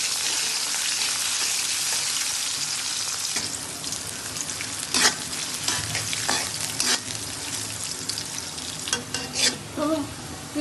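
Onions and a bay leaf fry in hot oil for a chicken roast, steady sizzling under repeated stirring scrapes and clatters that grow busier in the second half.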